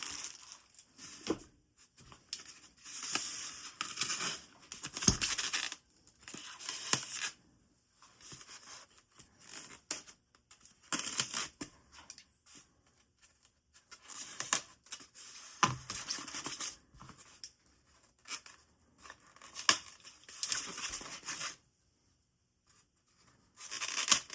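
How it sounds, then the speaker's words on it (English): Plastic FansToys toy packaging being opened, with bursts of crinkling, scratching and tearing separated by quiet pauses, close and fairly soft. "And then opening him up, we can see that it's the typical FansToys packaging."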